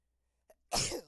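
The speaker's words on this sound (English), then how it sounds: "Double sneeze snuck up on me a little bit." A double sneeze from a man during a Madden 07 gaming session, a small first burst followed quickly by a loud, close second sneeze, then silence.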